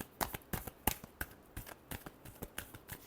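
Tarot cards being shuffled by hand in a quick run of crisp, riffling bursts, close and fairly quiet, with no voice over it.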